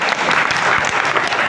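Audience at an outdoor Hindi comic poetry recital at a pilgrimage site breaks into loud, dense clapping, close and continuous for a brief moment with no talking.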